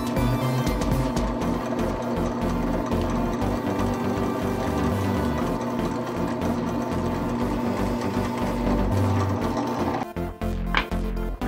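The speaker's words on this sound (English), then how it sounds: "I'm not actually drilling all the way through the MDF here, I'm just making the divot a little bit bigger" A power drill bores a divot into MDF for a wooden gear, a loud steady whine that runs continuously and close, easing off near the end.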